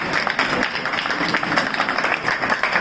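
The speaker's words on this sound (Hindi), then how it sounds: "सर पूरे सेट ने आपके लिए तालियां बजा दी।" People on a studio set applaud, giving a dense, steady patter of clapping mixed with a low murmur of voices. The applause runs without a break from start to finish.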